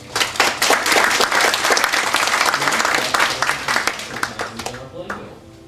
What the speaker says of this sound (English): Let's take a moment and give these fine people a much-deserved round of applause.